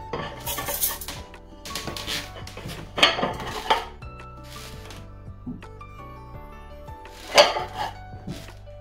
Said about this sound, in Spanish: Voy a pasar a colocar lo que son los platos